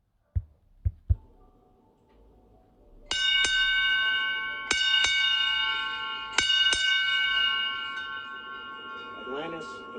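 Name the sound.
ship's bell rung as shuttle Atlantis departs the ISS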